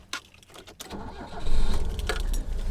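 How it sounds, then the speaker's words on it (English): A 1974 BMW 2002tii with a 5-speed starts on a dry road, a brief cranking followed by the engine catching and settling into a steady, fairly loud idle, with no talking. "So let me start the car up for you."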